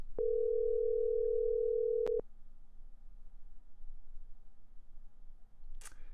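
Telephone dial tone heard while placing a call, a steady mid-pitched tone for about two seconds that stops abruptly, followed by quiet line hiss and a brief faint noise at the end.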